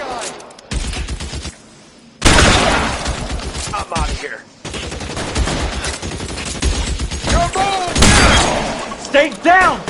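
Shootout in L.A. Noire with loud, dense volleys of gunshots in clustered bursts, briefly broken by near-silent gaps, while characters shout over the firing.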